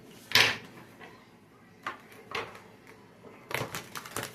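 A deck of playing cards being shuffled by hand, in several short papery riffles and taps, close and fairly quiet, with no talking.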